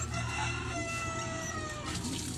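Alimokon doves kept as breeding birds call in an enclosure, drawn-out tonal cooing notes over a constant close background murmur.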